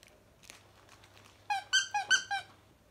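A squeaky dog chew toy is pressed four times in quick succession, giving sharp, bright, close squeaks after a stretch of near silence with a few light handling noises.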